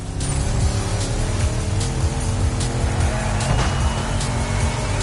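A race car drives fast in The Crew Motorfest, its engine roaring loud and close without a break, with tire squeal and skidding in places.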